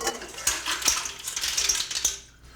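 Cooked PEI mussels in their shells clatter and rattle as they are poured into a metal colander, with several sharp clinks over a couple of seconds.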